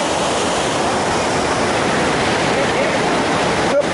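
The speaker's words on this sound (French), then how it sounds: "Il y a de l'eau." Water rushes over rocks at a waterfall in Tad Lo, Laos, a loud, steady broadband roar that fills the whole clip, close and continuous, with speech-like sound picked up under it.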